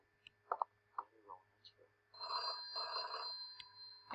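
A telephone rings in the horror video game Deep Sleep, a sustained ring lasting over a second after several scattered clicks and knocks, fairly faint overall.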